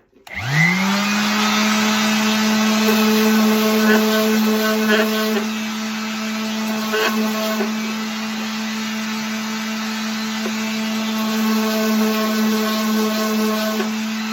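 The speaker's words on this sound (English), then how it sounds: "we'll give a quick sanding now to these" A steady, loud motorized whine of a power sander runs continuously with a constant pitch, slight dips and surges as it presses against wooden spatulas, no talking.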